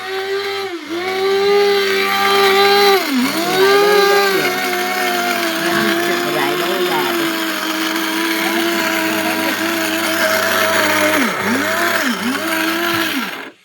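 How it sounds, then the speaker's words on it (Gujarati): A kitchen mixer grinder runs loudly close by grinding spices, its motor whining steadily with pitch dips as the load shifts, briefly slowing and restarting near the end. "હવે આપણે મિક્સરમાં રૂબડીની જીરી કરી નાખીએ"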